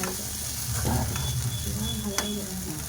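Mushrooms stirred and frying in a pan with turmeric and salt, a steady close sizzle with soft scraping stirs and a sharp clink near the end.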